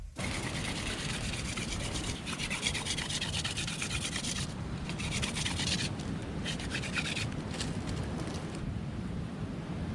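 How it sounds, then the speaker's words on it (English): A steady, rasping rub of wood against wood continues throughout as a wooden drill is spun by hand to make fire by friction, with brief pauses in the higher scratchy tone. "He just kept spinning that drill by hand to get a flame"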